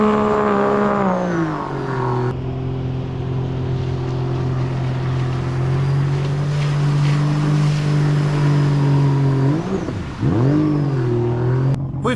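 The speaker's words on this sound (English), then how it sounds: "when I punch it, like lower RPM, it kind of bugs out, and then it wants to go up" The Rotax engine of a 2017 Sea-Doo RXT-X personal watercraft with a wiring fault drones at steady high revs, stepping up in pitch, dipping and surging near the end, loud and close throughout.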